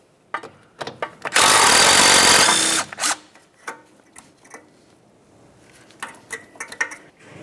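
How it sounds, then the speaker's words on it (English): A 12mm wrench or ratchet works loose the brake hose mounting bolt on a 2006-2011 Honda Civic strut, giving a close, loud burst of whirring followed by scattered metallic clicks and knocks. "We'll use a 12mm to remove the mounting bolt."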